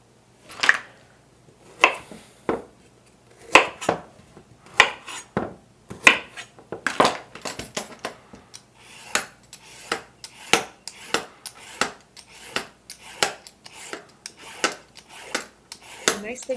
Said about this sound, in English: I peel the carrots and then I chop them into smaller pieces